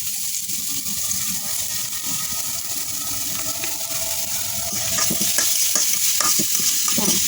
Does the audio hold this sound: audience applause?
no